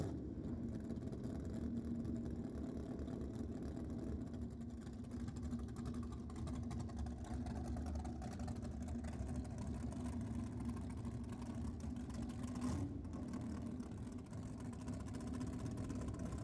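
A drag racing car's engine drones steadily throughout at a drag strip, a deep continuous rumble at a distance, with a slight shift in tone partway through.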